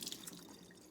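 Soapy water drips and trickles from a chamois being squeezed out, a short, soft, close spatter of droplets.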